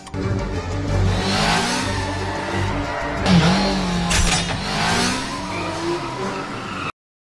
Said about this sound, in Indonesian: Ketika targetnya sedang berada di lampu merah, Joe langsung menancap gas